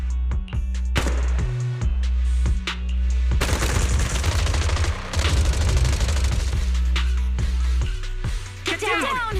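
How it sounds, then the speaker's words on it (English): Suppressive marching fire in the video game Zenless Zone Zero: loud, dense bursts of automatic gunfire and booming shots pound close by for several seconds, coming from multiple directions, with brief pauses and game voices and effects mixed in. "Gunfire? This pattern. Suppressive marching fire."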